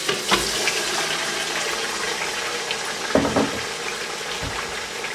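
Marinated beef mince dropped into hot oil for makhmali keema, a broad steady hiss of sizzling with a few soft clunks of the pan, close up and without talk.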